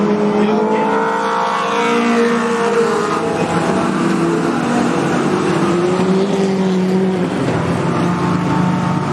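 Race cars roar around Cottage Grove Speedway, a loud dense engine drone with rising and falling revs as several cars pass close together through the turns, continuous throughout.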